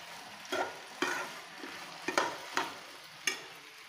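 Potato fry mixture being stirred in a pan for a South Indian potato roast, with a spoon scraping in several distinct strokes about half a second apart over a soft sizzle, close and fairly quiet.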